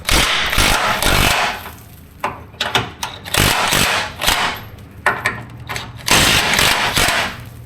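Bolts being loosened on a Ford Super Duty truck bumper, heard as loud, close bursts of harsh mechanical tool rattling and clanking that stop and start with short gaps.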